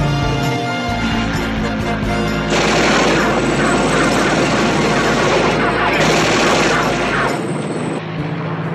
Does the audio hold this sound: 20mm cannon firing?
yes